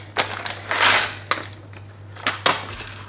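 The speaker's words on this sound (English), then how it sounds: "we're just going to keep flipping them around occasionally until they become nice and toasted" Slivered almonds toasting in a pan over medium-high heat rattle and click in several sharp bursts as they are flipped and tossed, with quiet gaps between.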